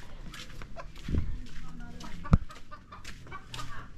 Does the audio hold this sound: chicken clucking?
yes